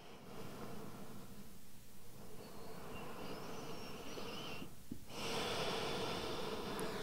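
Slow deep breathing from a person resting in a yoga forward rest pose: long, close, airy inhales and exhales with a soft snort-like catch, in a quiet room with no talk.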